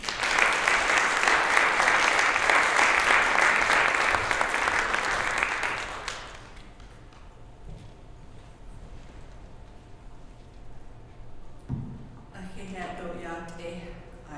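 Warm, sustained clapping from a lecture-hall audience welcoming a distinguished speaker at the University of Winnipeg, loud and steady for about six seconds before fading into quiet room tone and the start of speech.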